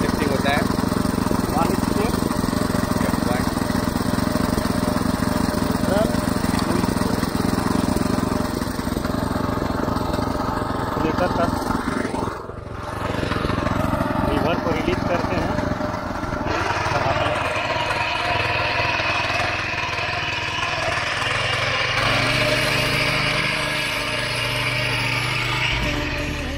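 A power tiller plow machine's small engine runs loudly and steadily close by, a throbbing mower-like drone with a brief dip midway and a shift in tone later, while someone talks over it.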